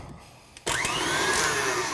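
After a short quiet moment, an electric mixer starts up abruptly and whirs steadily and loudly through pumpkin pie custard filling with salt and vanilla, close by and with no talking.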